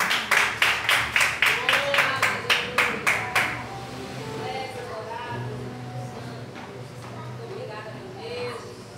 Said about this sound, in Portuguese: e as palmas que louvam ao Senhor